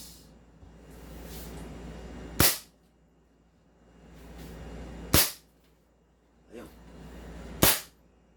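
An upgraded M92 Beretta airsoft pistol shooting at around 440–470 FPS fires three sharp, snappy pops about two and a half seconds apart. A soft rising hiss builds before each shot.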